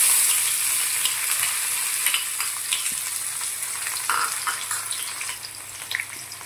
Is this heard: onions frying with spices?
yes